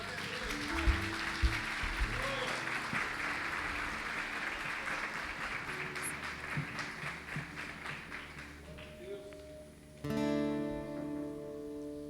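Clapping during a Portuguese-language church communion service, a steady congregational applause running under music and voices for about ten seconds before a louder sustained musical swell takes over.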